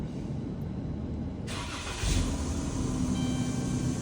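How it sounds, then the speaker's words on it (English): A Dodge Grand Caravan engine cranks and catches after both catalytic converters were replaced, then settles into a steady idle, close and clear with no talk. "Start her up."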